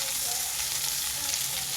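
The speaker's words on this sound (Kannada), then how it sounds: "ಈರುಳ್ಳಿ ಚೆನ್ನಾಗಿ ಫ್ರೈ ಆಗಬೇಕು" Two medium onions, sliced lengthwise for an egg masala, sizzle loudly in hot oil in a pan, a dense, continuous frying hiss with no voices.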